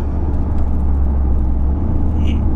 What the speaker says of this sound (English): It's got a bit of a purr out the back, but Golf R's have got that anyway.